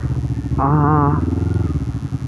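A 249 cc Honda CBR 250RR warms up at close range, its engine idling with a steady, even pulse and one brief rise in pitch early on before settling back.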